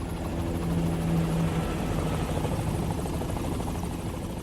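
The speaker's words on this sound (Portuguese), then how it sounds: "com som de helicóptero e tal" A helicopter drones steadily overhead with a continuous rotor thrum and engine whine, loud and unbroken, with no other sounds over it.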